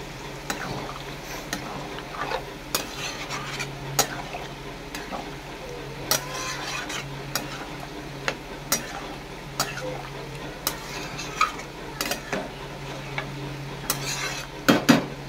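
Okra and prawns are stirred and sautéed in a pan with a spatula, giving repeated scraping clinks over a low sizzle in an uneven rhythm throughout.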